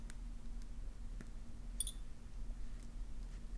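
Wire tails on a wire-wrapped earring are snipped off, giving one faint, sharp click near the middle over a low, steady background hum.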